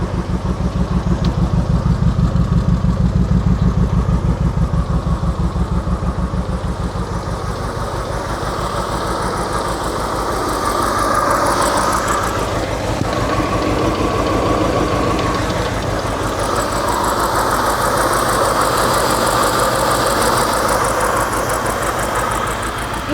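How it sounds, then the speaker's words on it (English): A manual BMW E60 550i V8 with a custom exhaust idles steadily and loudly up close, its low, lumpy throb holding constant with slight swells and no voices. "It's got a crazy ass custom exhaust, doesn't it?"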